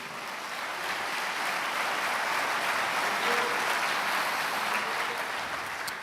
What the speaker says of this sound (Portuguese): Se você crê, aplauda ao Senhor nesta noite.